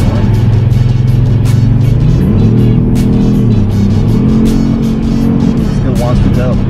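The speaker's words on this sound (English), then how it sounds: "I actually like the kind of V8 sound coming out of the speakers." A deep, V8-like engine rumble played through the cabin speakers of a 2018 Kia Stinger GT drones on the highway, rising and falling in pitch as it accelerates, with people talking over it.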